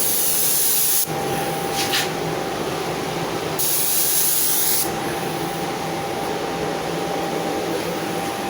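A spray gun hisses as paint goes onto the front fender of a Ford Ranger, a loud steady spray joined by two sharper bursts, with no talk.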